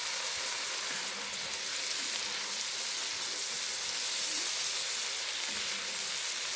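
Seafood frying in a pan, giving a dense, steady sizzle and crackle heard close and continuous throughout, with no voices.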